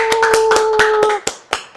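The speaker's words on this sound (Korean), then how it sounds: "우리가 큰 박수 보내드리도록 하겠습니다" A short burst of crisp, evenly spaced claps, close and loud, during an online lifting-treatment master class, with two steady tones sounding under the first second before the last few isolated claps ring out alone.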